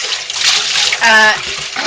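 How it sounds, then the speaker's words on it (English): Water runs and splashes while soap-making containers are rinsed out, a steady near wash of flowing liquid with a brief louder surge, and a voice talks over part of it. "now I'm just flushing my containers"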